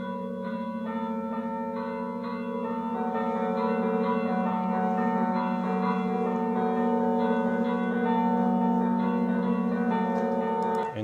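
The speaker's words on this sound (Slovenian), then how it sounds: "Recimo primer tak bolj enostaven, ko so samo 3 zvonovi noter." A set of three church bells rings continuously, their sustained, overlapping tones forming a steady, resonant wash that hangs in the air for the whole stretch with no voices.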